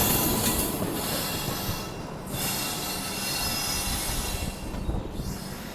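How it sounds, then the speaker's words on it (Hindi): MGR Chennai Central–Nagercoil Express train passing close by, with loud, continuous wheel squeal and rolling rail rumble that hold steady for several seconds. "ये सामने से मेरे ख्याल से MGR Chennai central Nagercoil express जो वो आ रही है"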